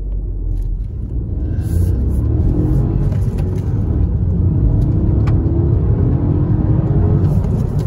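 Honda Civic with a 1.0-litre turbo P10A2 engine accelerating hard toward 100 km/h, a steady loud rumbling drone heard from inside the car, with no talking.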